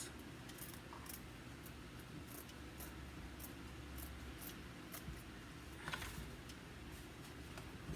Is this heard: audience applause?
no